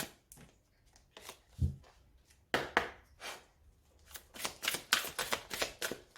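A deck of oracle fairy cards being shuffled and cut by hand, a run of close, crisp riffling and slapping bursts that grow denser toward the end, with no talking over them.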